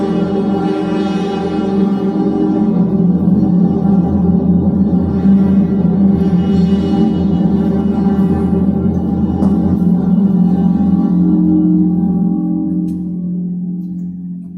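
A sustained, dense pad from the Crystal soft synth plugin, drenched in huge reverb, holds layered harmonic tones steadily before slowly fading out at the end.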